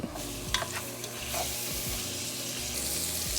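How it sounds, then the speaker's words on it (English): Vegetables cooking in liquid in a covered pan give a continuous hiss and bubbling sizzle, with a few soft clinks and scraping stirs near the start; close and steady. "This is really going to soften the vegetables and cook them."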